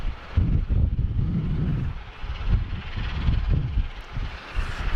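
A Royal Thai aircraft rolls off the runway at Sydney Airport, its jet engines a loud, steady roar heard from a distance with some wind buffeting the microphone.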